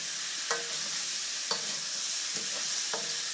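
Vegetables stir-frying in oil on full heat, a steady bright sizzle with four evenly spaced clicks of a utensil stirring the pan, close and clear with no talking.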